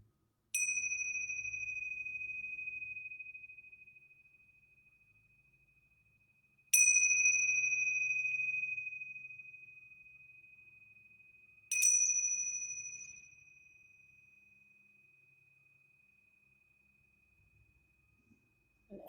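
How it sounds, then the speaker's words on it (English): A meditation bell rings three separate times at a calm, even pace in a quiet room, each bright tone lingering and slowly fading before the next strike. "just listening to the sound of the bell as we bring this practice to a close"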